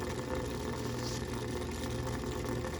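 Mistral Gyro-Aire rotating louver fan with its motor running and needing oil, producing a faint, steady low hum and whir without pauses or talking.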